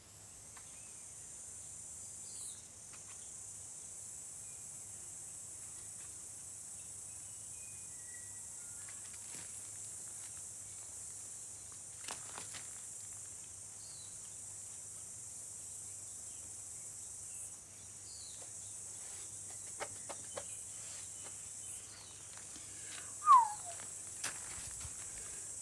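Cicadas buzzing in a background of outdoor animal sounds: a continuous high shrill drone that runs the whole time, with a low hum beneath, a few faint clicks and one brief thump near the end.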